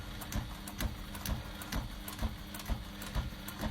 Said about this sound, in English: I'm going to do a line of stitching to divide the pocket in two.